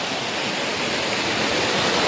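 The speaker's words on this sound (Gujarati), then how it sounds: "આ ઝરણા આવે ને છે ને એમાં નાવા મીડ્યો છે." A forest stream pours in Gir near the Hanuman Gala temple, where people bathe, a dense and continuous roar of rushing water that sounds close and loud, with no voices.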